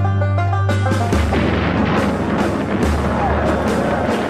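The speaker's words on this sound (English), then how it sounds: "the booby trap would detonate." A booby trap detonates in a wartime setting: a loud, sustained blast with rumbling, crackling debris that fills the whole clip at close range, with a low steady hum underneath and no talk.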